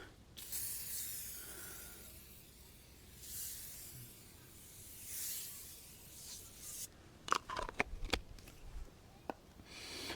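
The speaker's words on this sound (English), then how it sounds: "I spray the aerosol on there" Aerosol foam wheel cleaner, Superior Products Dark Fury, sprayed onto a dirty wheel in several long, soft hissing bursts, followed by quieter rubbing and clicking handling noises.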